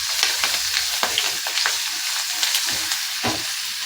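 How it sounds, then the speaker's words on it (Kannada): Sambar onions sizzling in hot oil with mustard seeds, asafoetida and dried chillies for hotel-style idli sambar, a steady close crackle broken by scattered pops and the scrape of stirring. "ಸಾಂಬಾರು ಈರುಳ್ಳಿ ಅನ್ನೆಲ್ಲ ಹಾಕಿ ಮಗ್ಗಿಸ್ಕೊಳ್ಳೋಣ."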